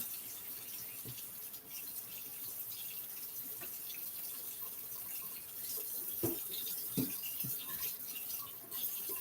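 Water runs at a kitchen sink while a stand mixer bowl and its attachments are washed by hand, a faint steady stream with occasional soft clinks and clatters of metal.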